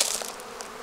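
Honey bees buzz at an opened beehive during winter preparation with Apivar varroa mite strips, a close, steady, dense hum over a brief moment with no voices.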